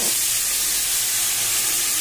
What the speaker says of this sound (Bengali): এবার মাছটা এবার ঢেলে দেবো ওর মধ্যে।